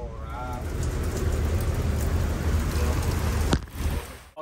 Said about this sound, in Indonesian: Hujan besar lagi.